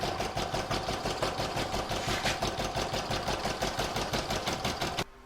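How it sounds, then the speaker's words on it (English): An embroidery machine stitches down around the edges of an in-the-hoop crazy patch bag, with a fast, even mechanical needle rhythm running close and steady before cutting off abruptly at the end. "I'm going to pop it back in my machine, and it's going to stitch down around the edges."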